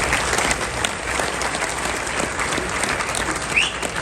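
Crowd applause at an interview event with Khabib Nurmagomedov, a steady wash of clapping throughout with a brief sharp squeak near the end.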